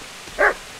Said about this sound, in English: Why does he just bark at me whenever he sees me?